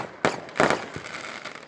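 Fireworks popping in the air, a few sharp close bursts in quick succession followed by a fading crackle.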